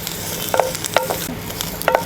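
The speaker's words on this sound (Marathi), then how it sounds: "थोडं तेल टाकून भाजते" Chicken masala for a Maharashtrian village-style chicken dish frying in a little oil in a pan, a steady sizzle with a few spoon-stirring scrapes, fairly loud and close, with no talking.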